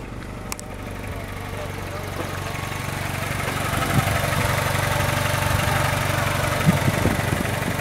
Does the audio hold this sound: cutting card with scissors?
no